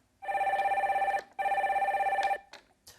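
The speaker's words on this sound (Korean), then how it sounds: "다시 또 전화 연결해 볼게요." Telephone ringing on a call-in line, two long electronic trilling rings separated by a short gap, clear and close, followed by a brief click.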